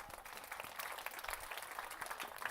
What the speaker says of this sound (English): Everybody give Stacy a round of applause real quick.